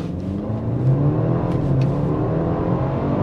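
A BMW 320i xDrive G20 with a Stage 1 tune launches hard from standstill, its engine roaring loud and close with a steady rising drone and no talk over it.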